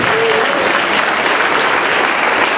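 Loud, sustained applause from a church congregation, steady clapping filling the whole stretch without a break.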